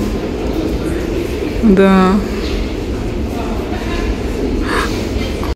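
A Berlin metro train rumbles steadily, with a brief high squealing tone partway through, while a voice speaks briefly over the constant carriage noise.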